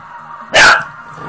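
A puppy gives a single sharp, close bark that cuts through a quiet room, then falls back to near silence.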